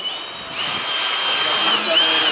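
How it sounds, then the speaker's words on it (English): A power drill whines at high speed while pilot drilling, loud and close, with the pitch shifting as it bites in and bogs down briefly near the end. "Pilot drilling works."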